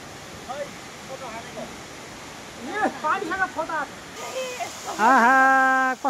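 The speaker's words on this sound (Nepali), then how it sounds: "फाइनल्ली जलबिरे झरनामा आइपुगेका छौँ।" Jalbire waterfall rushes in a steady, broad roar that holds through the whole stretch, with people talking nearby over it.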